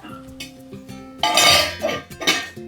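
A metal lid goes onto a cooking pot of fenugreek and dried bombil fish, making a loud close clattering clank followed by a second shorter rattle.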